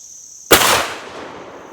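A 12 gauge shotgun fires a single reloaded shell outdoors: one loud, sharp boom breaks the quiet, then a long rolling decay fades over about a second.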